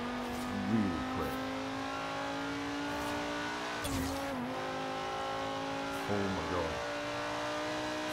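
A Lamborghini Sesto Elemento in Forza Horizon 3 revs hard through repeated climbing engine sweeps with gear-change dips and brief tire squeals, loud and close, with a voice exclaiming once.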